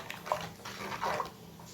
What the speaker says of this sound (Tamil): இந்த டயத்தில் வந்து நான் தண்ணியை கொஞ்சம் வடிகட்டிக்கிறேன்